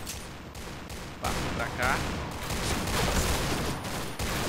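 Python pistol shots crack repeatedly in the shooter Point Blank, loud and close over dense game noise, while a voice speaks briefly.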